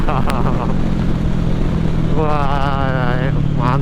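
Kawasaki ER6N motorcycle fitted with an Akrapovic racing exhaust, a steady close engine drone that rises in a revving sweep partway through, alone without talk.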